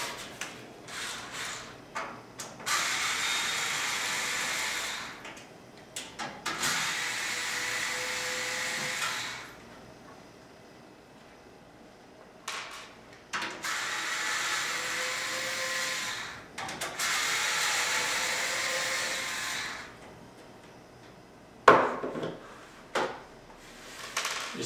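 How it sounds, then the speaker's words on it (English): Power drill backing four screws out of the back of a PC power supply during a repair: several sustained high whirring bursts separated by short pauses and small clicks and clunks, fairly close. "There are 4 screws on the back we take out right here."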